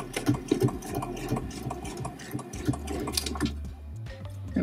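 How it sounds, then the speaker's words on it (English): A domestic sewing machine runs steadily, stitching through bulky fabric seams with boning while refashioning a skirt into a top, its motor hum carrying a quick mechanical needle rhythm, close and alone. "And then just continue sewing."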